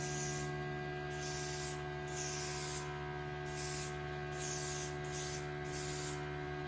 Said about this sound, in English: keeping the airbrush at that angle